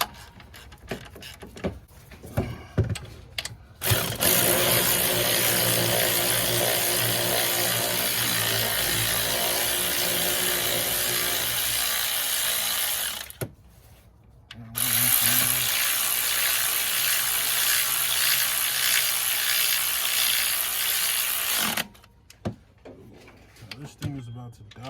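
A power tool cranks the alternator bolts on an early-2000s Chevrolet Silverado/Tahoe in loud sustained bursts, with one short break in the middle and mechanical clatter before and after.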